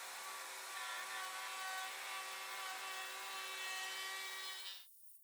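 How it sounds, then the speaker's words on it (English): A Festool 1010 router fitted with an 8mm bit cuts wood with a loud, steady high-pitched whine and cutting roar that holds for several seconds, then spins down and stops abruptly. "I'm using the 35mm cut length 8mm bit in my Festool 1010."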